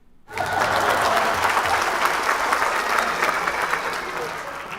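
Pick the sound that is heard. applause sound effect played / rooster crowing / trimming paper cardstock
applause sound effect played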